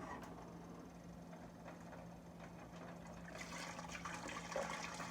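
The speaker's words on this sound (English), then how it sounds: "You put the rest of the stock in here." Stock pours into a pot of Mississippi-style gumbo with sausage and onions, a faint, steady liquid splashing and trickling that swells slightly toward the end.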